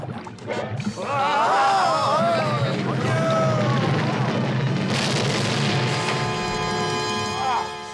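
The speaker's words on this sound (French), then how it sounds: "Une explosion comme ça, c'est largement suffisant." A cartoon explosion from an animated Smurfs episode, set off by a mixture given the wrong dose, erupts as a sudden loud blast partway through. Ringing, sparkly tones linger after it, and lively animated voices and music come before it.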